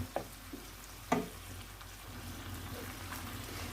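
Mushrooms and chicken frying and stirred in a pan as a filling for Moroccan cigars, a soft steady sizzle with a couple of scraping stir knocks near the start.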